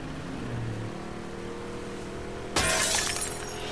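Glass smashing in The Last of Us Part II: one sudden loud shatter that hisses on for about a second after steady low background ambience.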